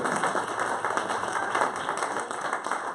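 Church congregation clapping during a Spanish-language sermon, sustained even applause from a room of people, moderately loud with no voices over it.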